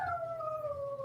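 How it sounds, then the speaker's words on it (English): A dog howls in a long, slowly falling wail, one drawn-out cry heard fairly close and clear, with a second voice faintly joining. "They're both howling up there."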